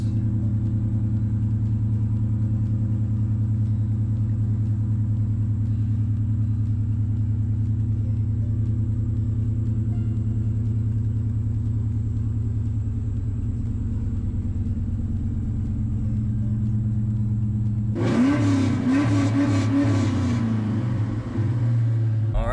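A car engine with 37,000 miles idles in a steady, loud, low rumble for a long stretch, then a burst of mechanical clatter and a rising rev break in near the end.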